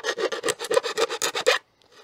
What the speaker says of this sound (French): Ouais, ça lime bien.